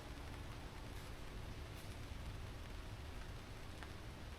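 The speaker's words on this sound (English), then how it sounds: "but the rain is on" Rain falls steadily at night over a hammock camp, a faint, even hiss of drops with no breaks and no talk.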